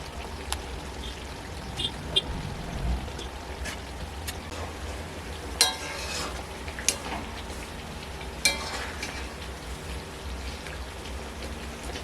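Pointed gourd frying in spice masala in a pan makes a steady, rain-like sizzle with scattered sharp pops and crackles, heard close and alone.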